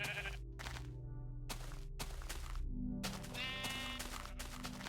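Sheep in a video game bleat in a series of distinct, close calls separated by short pauses, with a longer wavering bleat near the end, clear and without talk.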